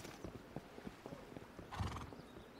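A horse in the video game Bellum whinnies over steady clip-clopping hooves, a short, clear burst with no talk.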